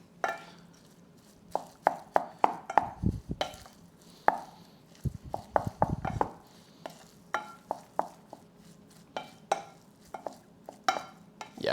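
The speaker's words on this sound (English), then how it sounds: "And now I'm going to stir." A spoon stirs a lime, cilantro and salt mixture in a bowl, making a steady run of close clinks, taps and soft wet scrapes, with a few heavier knocks partway through.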